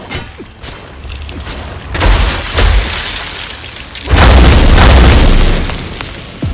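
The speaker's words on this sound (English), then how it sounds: "she puts ice on the ground and then she explodes it" Crackling, booming bursts erupt in waves, a loud icy shattering explosion from a character's ice ability in the video game New World, with rumbling low end and hissing debris, building to a heavier blast near the end.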